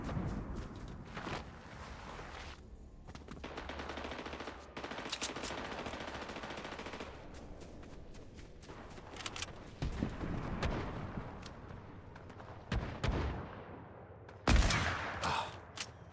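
Hunting rifle shots in Fortnite ranked battle royale, with loud sharp gunfire bursts and rattling game action, plus echoing blasts near the end, dense and up close.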